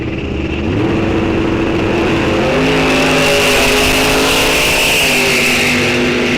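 Loud, close roar of two drag racing cars, a Mustang and a Cutlass, at Rock Falls Raceway, engines revving hard and climbing in pitch as they run down the strip.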